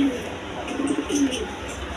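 Tagged pigeons cooing at a breeder's loft, a few soft low coos mid-clip over steady background hiss.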